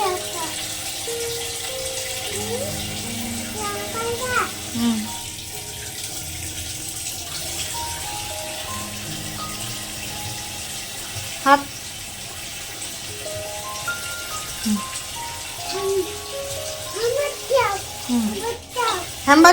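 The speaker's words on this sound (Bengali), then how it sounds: "এসো হাত ধুয়ে দিই এসো হাত ধুয়ে দিই" Water runs steadily from a tap while a child's hands are washed at home. The continuous splashing stays under an adult's voice and a child's chatter, with a few clinks near the end.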